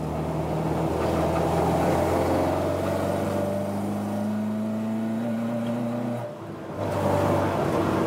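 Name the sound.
car engine revving at high revs, possible misfire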